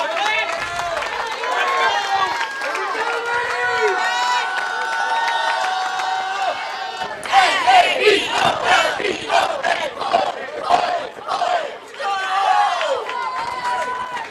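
A crowd at a boys' state high school bowling tournament first hums and shouts in a sustained roar, then bursts into louder, choppy rhythmic cheering and yelling that rises and falls.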